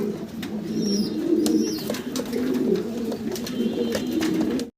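Pigeons coo steadily in low, throaty rolling calls, close by, with a few brief sharper chirps and clicks in the background.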